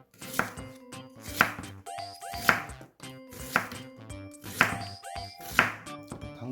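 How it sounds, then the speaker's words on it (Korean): Knife chopping half an onion on a cutting board, seven evenly spaced sharp chops about a second apart, each with a crisp crunch, close and clear with nothing else around. "이 양파 반 개 썰게요"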